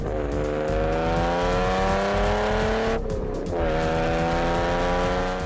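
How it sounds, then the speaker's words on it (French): A Jaguar E-Type's six-cylinder XK engine roars close and loud in a steady, sustained drone, with pitch shifts that suggest gear changes and a brief dip midway through. "Mesdames et messieurs, la Jaguar Type E."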